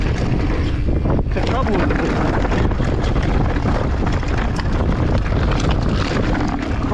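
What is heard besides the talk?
wind blowing while mountain biking on a trail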